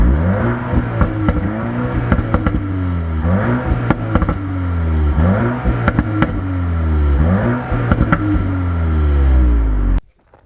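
A 2021 Cupra Formentor's engine and exhaust, loud and close, with repeated rev rises and drops in a steady rhythm for about ten seconds before cutting off abruptly.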